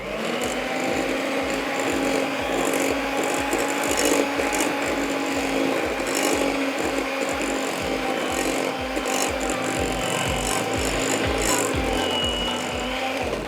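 Dry cookie bar dough being mixed with sifted flour, a continuous rhythmic scraping and rubbing in a bowl, steady and close with no talk.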